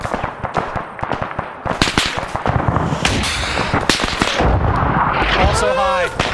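A self-propelled gun fires on the player during a combined-arms military game battle: sharp, heavy blasts and cracks of gunfire crowd together, close and loud throughout, with a brief whistling tone near the end.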